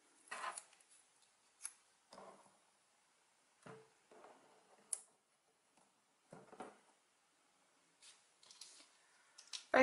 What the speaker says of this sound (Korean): 빨대를 가위로 6cm 정도 잘라서 세막대에 끼워 넣습니다.